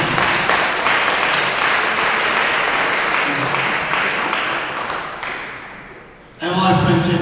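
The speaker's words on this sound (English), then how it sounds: "Give them a round of applause." Stand-up comedy club audience breaks into a round of applause, dense loud clapping that tapers off over about six seconds before a voice takes over at the end.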